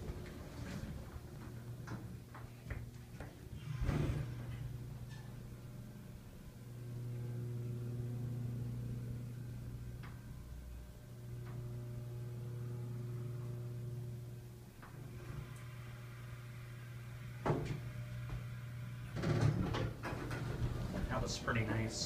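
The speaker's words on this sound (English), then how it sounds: "let's see how the motor and the relay sound" A hydraulic elevator's motor and relay, rated for 1,500 pounds, run with a steady low hum that holds through most of the stretch, broken by a few clicks and thumps near the start and end, with people talking quietly nearby.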